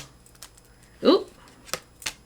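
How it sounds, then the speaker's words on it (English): Tarot cards are shuffled in a quick riffle, with a few sharper flicks and snaps following, close and fairly quiet. "I give it a good shuffle."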